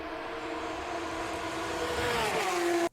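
A car approaches at high speed, its engine a steady rising drone with a faint echo, the pitch sliding down near the end before the sound cuts off abruptly.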